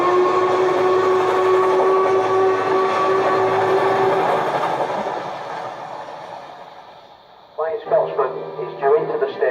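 The Flying Scotsman steam locomotive approaches Bury Station on the East Lancashire Railway, a steady loud rumble with a long sustained whistle tone that fades before short bursts of chuffing and clanking close in.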